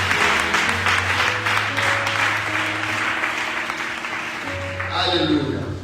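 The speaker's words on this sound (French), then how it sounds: "Acclame fortement le Seigneur." A church congregation applauds and acclaims the Lord in a steady wash of clapping under raised voices and a sustained low musical tone, continuous and fairly loud from start to finish.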